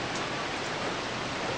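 Steady, dense hiss of rain falling outdoors, continuous and even throughout with no other sounds.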